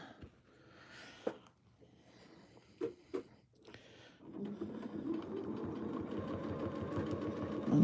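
A domestic sewing machine stitches free-motion circular pebble quilting, first in short separated bursts, then a steady, continuous whir from about halfway through to the end.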